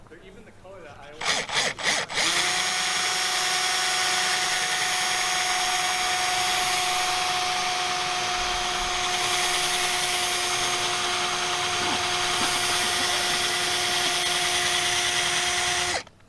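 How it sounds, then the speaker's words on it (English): A power drill bores into carbon fiber louvers, starting with a few sharp stuttering bursts, then settling into a loud, steady, high whine that holds for the whole stretch before cutting off abruptly. "I'm really out here drilling into carbon fiber"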